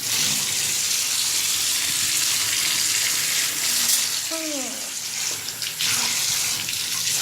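Water running from a hotel bathroom tap in Taiwan, a steady loud rush close by with a brief voice partway through.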